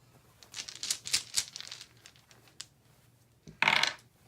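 Dice for the board game Herbaceous Sprouts click and clatter as they are set down, a few light scattered taps followed by one louder rattling burst near the end, with no talk.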